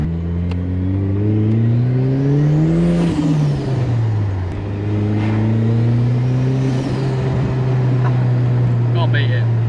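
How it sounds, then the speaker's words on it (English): Turbocharged Ford Sierra Cosworth tuned to 560bhp, engine revving loud and close with rising turbo whine, then falling away with fluttering chatter off throttle, twice over, with faint talk in the cabin. "The turbo's spooling up, you can hear it whining and whining, and then as you come off it just flutters"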